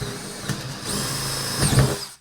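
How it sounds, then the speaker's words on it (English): A power drill boring a hole through a wooden O gauge train layout board, a steady close whine that rises in pitch midway and swells louder before cutting off abruptly. "Just locate the hole underneath, drill a hole"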